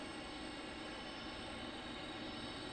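A Delta Boeing 757 jet arriving at Detroit Metro airport, heard as a steady, broad engine roar at moderate distance, continuous throughout with no talk.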